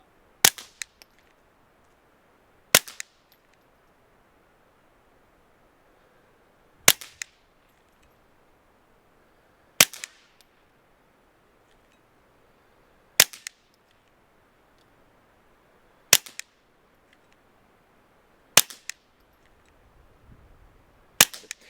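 Eight sharp suppressed gunshots from a firearm fitted with a Dead Air Mask suppressor crack out at steady intervals of about three seconds, each loud and clipped with a short tail, with near silence between them.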